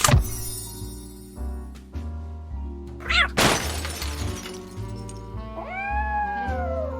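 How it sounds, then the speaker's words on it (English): A cat meows in the Nancy Drew video game Lights, Camera, Curses, a couple of drawn-out cries over a sustained musical background, with a brief breaking, shattering noise in the middle. "That's the cat Molly wants me to catch."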